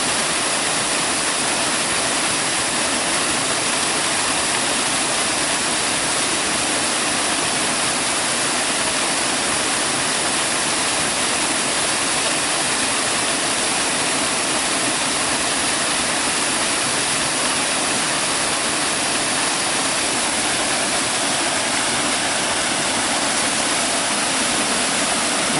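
A waterfall pours with a steady, dense roar of rushing water, loud and unbroken throughout with no change in level. The broadband wash never pauses and no voices are heard.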